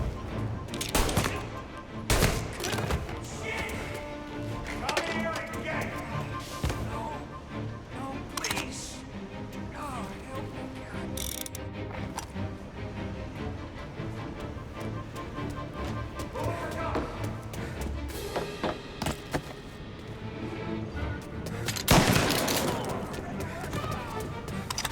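Gunfire in Mafia: Definitive Edition crackles in dense, uneven bursts of sharp shots over a busy game soundtrack, loud and close throughout with heavier volleys near the end, while voices talk over the action.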